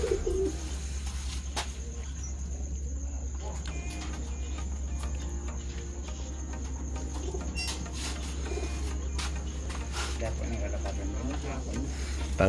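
Racing pigeons coo softly in a loft during evening basketing in Agoo, La Union, a low, steady murmur under chirping crickets, with faint voices and scattered clicks in the background.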